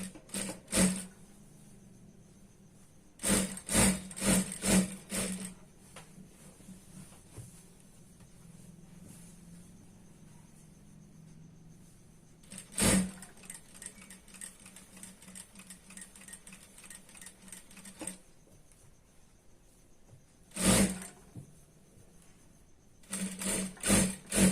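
A sewing machine stitches a round seam on a dhoti salwar, firing in several fast, loud bursts of rapid stitching with quieter pauses between them. No one speaks over it.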